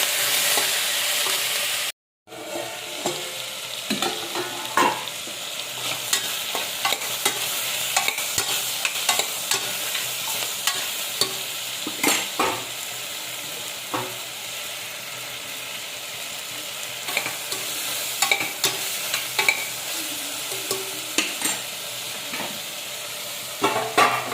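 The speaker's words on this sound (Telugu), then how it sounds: "కొంచెం ఉప్పు, పసుపు కూడా తగినంత వేసుకొని బాగా కలపాలి" A spoon stirs ridge gourd curry with salt and turmeric in a pan, scraping and clattering in irregular strokes over a soft sizzle, close and fairly loud, after a brief silent gap near the start.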